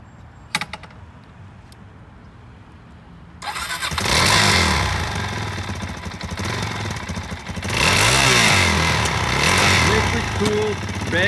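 A used 2004 Suzuki DR-Z400E dirt bike engine starts after a few quiet clicks and settles into a loud, steady idle, then revs up twice in smooth swells before dropping back.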